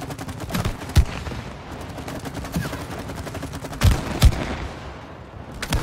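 Gunfire in the co-op video game It Takes Two, sharp repeated shots popping at irregular intervals over a dense, busy game soundscape, with no clear talk over it.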